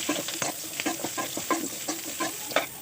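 Ridge gourd and curry leaves sizzling and frying in a pan for chutney, with repeated stirring scrapes at a steady, uneven rhythm, close and moderately loud.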